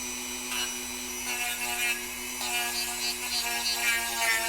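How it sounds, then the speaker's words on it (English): A Dremel rotary tool grinds a 20mm wheel spacer for a C8 Corvette, a steady high-pitched whirring hum with a grinding edge, close and continuous throughout. "I don't have a file, but I do have a Dremel, so let's see if this works."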